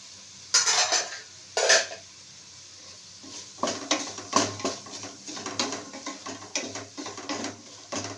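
Capsicum going into a cooking pot for bisi bele bath: two sharp metallic clangs, then a run of rhythmic scraping and clattering of a utensil against the pot, close and fairly loud.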